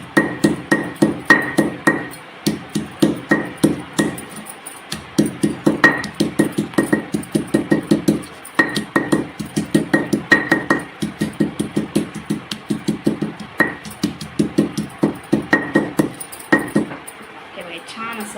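Green chillies being crushed on a stone grinding slab while making a village-style Maharashtrian bombil thecha: close, rhythmic pounding strikes in fast runs, broken by short pauses.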